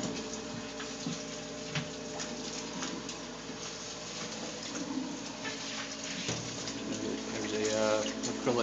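Water overflows the top of a clogged acrylic filter box with drilled holes and floss in a 60-gallon aquarium sump, a steady close splashing and trickling that swells toward the end.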